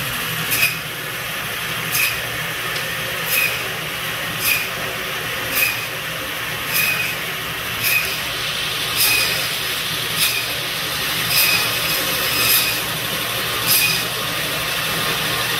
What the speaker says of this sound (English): We're gonna do some thin chops on the Model 55 Biro saw over here in Marblehead.